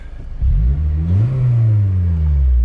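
A car engine revs up hard through an aftermarket exhaust with a deep, throaty note, rising in pitch then holding a loud, sustained drone close by.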